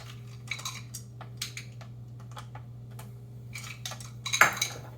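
Banana bread ingredients are mixed in a bowl, with light utensil clinks and scrapes against the bowl close by over a low steady hum, ending with a sharper clatter.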